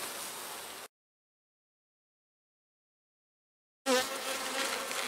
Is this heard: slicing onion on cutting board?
no